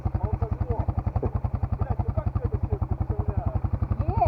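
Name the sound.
motorcycle engine starting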